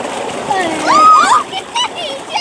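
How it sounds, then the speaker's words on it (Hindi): Water gushes and splashes steadily from a very deep tubewell, a continuous close rushing spray with people talking over it. "फ्रेंड दुनिया के सबसे गहरा ट्यूबवेल से है, देखिए पानी पानी भर रहा है।"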